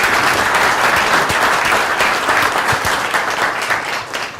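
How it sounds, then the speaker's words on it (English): Conference audience applauding a panel, a loud, sustained wash of many hands clapping at a steady level from start to finish. "let's give a round of applause for our panel"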